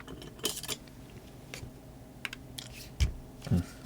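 Metal and plastic parts of a WE Galaxy gas handgun clacking as it is handled and pried at, a few sharp close clicks spread out, then two heavier thumps near the end.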